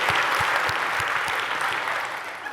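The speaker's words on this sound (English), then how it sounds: "Let's give Eric another warm round of applause." Conference audience applause in a hall after a talk on technology and biodiversity, a steady wash of many hands with a few close, distinct claps standing out, gradually easing toward the end.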